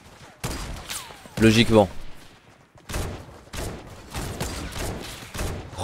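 Bursts of rapid gunfire from a weapon in Fortnite Battle Royale ring out in several loud volleys spread across the clip, with someone speaking briefly between shots.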